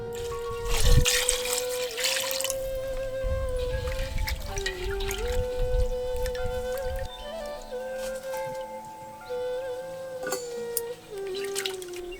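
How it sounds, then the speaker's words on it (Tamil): Water pours and splashes over cut fish pieces in a bowl, trickling and sloshing in bursts, with a steady tonal hum running underneath. "நறுக்கிற மீனை இப்ப தண்ணி ஊத்தி சுத்தமா கழுவ ஆரம்பிச்சிடலாம்"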